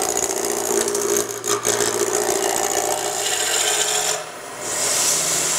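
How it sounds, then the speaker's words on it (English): A roughing out gouge cuts a spinning wood blank round on a lathe, giving a continuous, close, coarse rasping scrape over the motor's hum, with a short dip near the end. "the best tool for it is a roughing out gouge"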